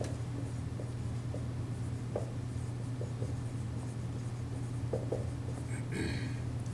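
A marker writes on a board during a physics lecture on relativistic mass and energy, producing faint, scratchy strokes and light taps over a quiet room hum, with no voice.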